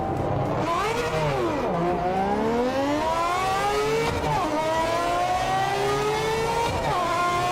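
A Group C race car in the Project Motor Racing sim, its engine screaming loud and close as it revs up through the gears, rising in pitch several times with brief drops at each shift.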